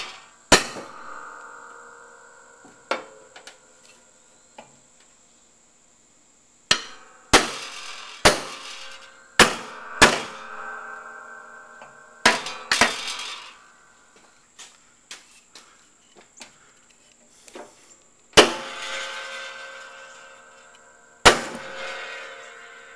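Gentle hammer taps on a lawn mower deck, ringing metallic clinks in scattered single hits and short clusters, each with a lingering resonant tone, separated by quiet stretches.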